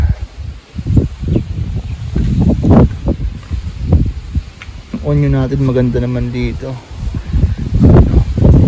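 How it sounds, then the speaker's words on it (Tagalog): Strong, gusty wind in a backyard vegetable garden buffets the microphone in rumbling bursts while a person speaks over it. "Pero kalakas yung hangin."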